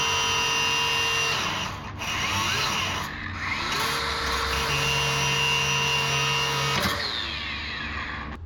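A power tool whirs and grinds while cutting a part for a truck debark mod, a close, loud buzzing that starts and stops in several bursts with short pauses between cuts.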